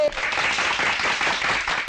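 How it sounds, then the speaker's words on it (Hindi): Crowd applause erupts at an Indian political rally, a loud, dense burst of many hands clapping that holds steady for about two seconds, with a short voice fragment clipped at each edge. "बजाओ ताली।"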